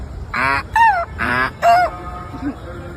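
A voice imitates a donkey braying: four close, loud, honking bursts that alternate between a rasping tone and a higher squeal, like a hee-haw, followed by a quieter trailing murmur.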